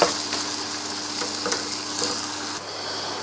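Chicken keema frying in a pan with a constant loud sizzle, a spatula stirring it with a few soft scrapes, close up and without speech.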